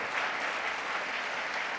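A church congregation applauds during a sermon, a steady, even wash of many hands clapping at moderate distance that continues without a break for about two seconds.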